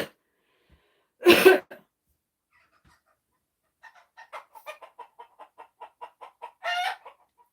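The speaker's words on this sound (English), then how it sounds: "the dog is chasing off one of the chickens" Chickens cluck and squawk in alarm while a dog chases one of them outdoors in New Zealand: a loud squawk burst, then a run of quick, evenly spaced clucks ending in another harsh squawk, with quiet gaps between.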